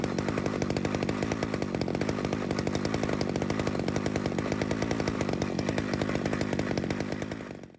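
A Stihl two-stroke engine idles near 3,000 RPM during carburetor tuning with the idle screw. It runs as a loud, steady, close, rapid-firing drone for the whole span, then fades slightly at the very end.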